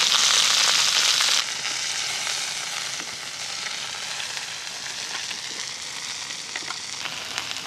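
An Irish rump steak with sauté potatoes and mushrooms sizzles in a pan at an outdoor camp: a close, steady crackling hiss that is loud at first, then drops abruptly to a quieter, even sizzle.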